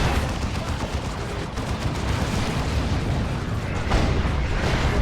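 Rocket run strike in Dawn of War 2, a dense, loud barrage of overlapping explosions and booming impacts rumbling continuously amid battlefield gunfire.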